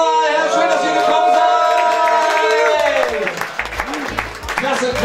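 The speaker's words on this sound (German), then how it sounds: "Applaus erstmal" An audience applauding at a public viewing event in Grubes Fischerhütte, a dense wash of clapping that swells and continues while someone speaks over it with amplified, sustained voice.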